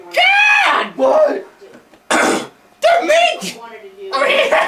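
Animated Dmitri Mendeleev character with tuberculosis coughing in short, harsh bursts, broken up by expressive vocal exclamations and rough throaty sounds.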